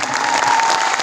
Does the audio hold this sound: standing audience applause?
yes